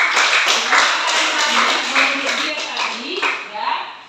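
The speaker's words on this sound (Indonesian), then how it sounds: "tepuk tangan dulu untuk wasinnya" A school class claps for a student's presentation, a brief burst of close group clapping mixed with children's voices.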